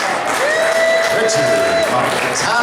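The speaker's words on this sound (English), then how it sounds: "let's have another round of applause for our friend" An audience applauds at a live local event, a dense steady wash of clapping close by, with a voice talking over it throughout.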